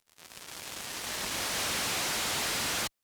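A burst of white noise from an Erica Synths Steampipe synthesizer fades in quickly, holds as a loud, even hiss, then cuts off abruptly.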